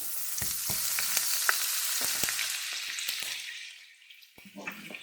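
Two tablespoons of oil and a tablespoon of butter fry in a pan over medium-high heat, giving a steady close sizzling hiss with scattered small pops and crackles that quiets toward the end.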